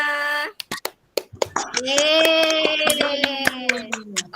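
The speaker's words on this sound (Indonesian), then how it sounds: "Silakan aplaus dulu untuk semua kelompoknya." A classroom of students gives a short burst of applause for all the groups, clapping loud and close, then children's voices and singing rise over the final claps.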